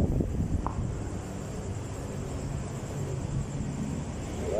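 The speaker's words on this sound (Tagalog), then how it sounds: "Malamig ang simoy ng hangin." Steady wind rushes across the microphone as a low, continuous breeze, with no voices over it.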